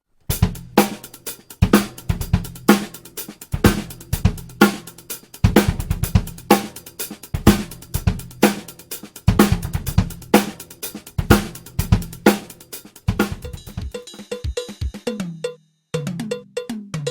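A tight drum groove plays alone: punchy kick and snare hits in a steady repeating pattern, ending with a quicker fill and a brief pause.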